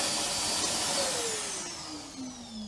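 Steady, close drone of a Vax Power 5 Pet vacuum cleaner hoovering, its motor whine slowly falling in pitch as it runs alone without talk.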